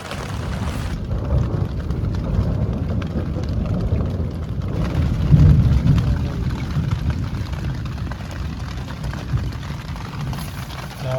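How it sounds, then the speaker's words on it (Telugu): Heavy rain pours down at night on a campsite among hills, a dense, steady roar of broadband noise that stays loud and unbroken throughout, with no voices. "పెద్ద వర్షం పడుతుంది మరి."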